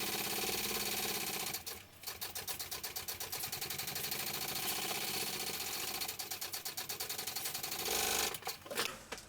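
A sewing machine bastes a sling pocket from the front side, making a loud, rapid, rhythmic stitching chatter that pauses briefly near the start and again near the end.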